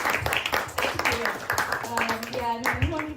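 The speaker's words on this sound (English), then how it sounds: "you don't need to clap for me" Audience applause with scattered clapping at a raga music event, broadband and continuous under a speaking voice, with a sustained musical tone emerging near the end.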